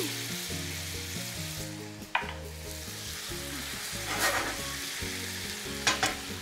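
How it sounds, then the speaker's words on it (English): Tomatoes from a can hit a pan of sautéed garlic with Italian seasoning, setting off a steady close sizzle and frying crackle, with a few louder stirring scrapes and splashes over background music. "I'm going to add some canned tomatoes straight to the pan with some Italian seasoning"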